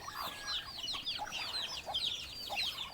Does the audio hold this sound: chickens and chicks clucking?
yes